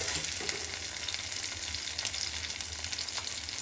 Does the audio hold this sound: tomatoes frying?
yes